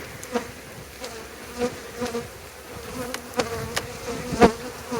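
Honeybees drone steadily in an open hive packed with bees during a frame inspection, a close, moderately quiet buzz with scattered wooden taps and clicks from handling the frames.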